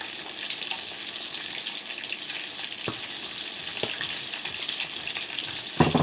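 Pollock fillets coated in almond flour frying in a pan give a loud, continuous crackling sizzle, with a few brief clicks and a louder pop near the end, and no voices.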